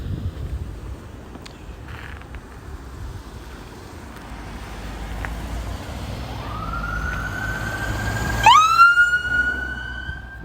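Emergency sirens from an ambulance with a police car escorting it to a medical center, rising from a distant wail into a loud, close sweeping siren over steady street noise, with a sharp burst near the end.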